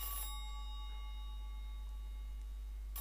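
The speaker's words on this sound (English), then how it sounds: "answer the bloody phone" In Silent Hill 3, a telephone gives a short sharp ring at the start. Its thin tone then fades slowly over a constant low drone, with a faint hint of another ring at the end.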